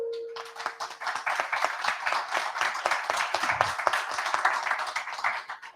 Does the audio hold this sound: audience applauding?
yes